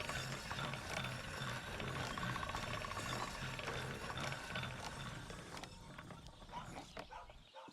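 A grindstone sharpening a blade in the medieval game Kingdom Come: Deliverance: a steady, rhythmic whirring and grinding with a ratchet-like pulse, continuous and fairly loud, easing slightly toward the end.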